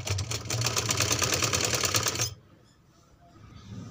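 A sewing machine stitches a baby frock in a fast, steady mechanical whir of close, even needle strokes for about two seconds, then stops abruptly, leaving only faint room noise.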